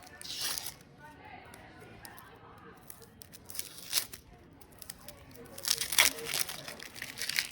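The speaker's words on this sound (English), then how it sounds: "you take the top of the onion and you cut it off, and you remove the skin on the outside" Dry outer skin is peeled off an onion in the kitchen, making faint, intermittent crisp crinkles and papery tears close by. A voice talks at times.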